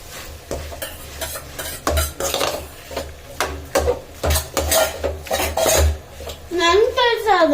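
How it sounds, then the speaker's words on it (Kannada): Ragi mudde stirred in a metal pan, a steady run of scraping, knocking strokes of a spoon against the pan at close range, with faint sizzling underneath and brief voices near the end. "ಯಾವಾಗೂ ಮುದ್ದೆ ಬಾಣಲೆಲ್ಲೇ ಮಾಡೋದು."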